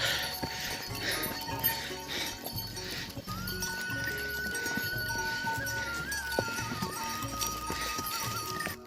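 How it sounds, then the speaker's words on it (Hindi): Horse hooves clip-clopping on a steep mountain trail leading up to Kartik Swami temple in Uttarakhand, a steady run of close, repeated hoof strikes over a busy outdoor background with a faint tonal sound above. "ये देखिए आप यहाँ आने के लिए घोड़े में भी आ सकते हो"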